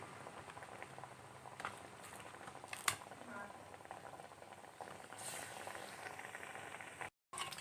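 Sweet wheat-flour pieces fry in hot refined oil in a wok with a faint, steady bubbling sizzle and a few light clicks, heard quietly and close, ending in a brief drop to silence.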